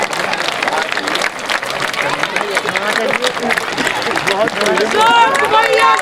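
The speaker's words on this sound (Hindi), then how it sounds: "सब लोग हाथ उठाइए, ताली बजाइए, ताली बजाते रहे जब तक ये माला ना पहने।" A crowd at an election rally claps continuously while a victory garland is put on, dense scattered applause mixed with shouting voices and babble, growing louder toward the end.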